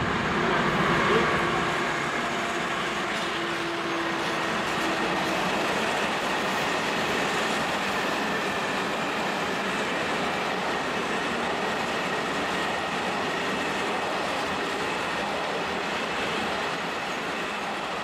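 A Metronom train rolls into Hamburg-Harburg station with a loud, steady rumble and faint wheel squeal, the noise filling the whole stretch.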